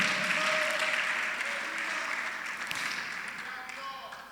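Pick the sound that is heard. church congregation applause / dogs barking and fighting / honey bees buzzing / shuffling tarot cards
church congregation applause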